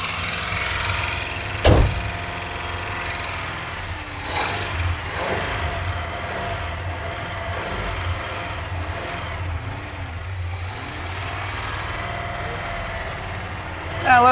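An old A-Team van engine with about 500,000 miles runs steadily at idle, a continuous low rumble with a brief louder burst near the start, while people talk over it.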